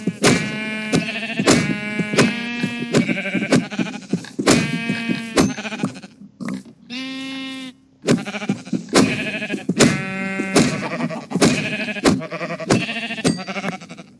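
Repeated sheep bleats from a video game, a steady run of loud wavering cries one after another across the whole stretch, with a brief gap near the middle and no talking.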